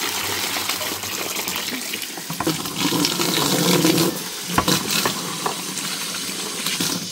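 Drinking water pours out in a steady splashing gush, loud and close, with brief clatters and changes in flow throughout.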